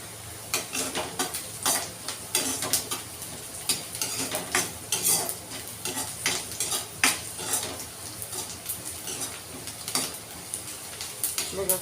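Onions are stirred and browned in a pan for ridge gourd curry, a frying sizzle under frequent metallic spoon scrapes and clinks against the pan, close and rhythmic throughout.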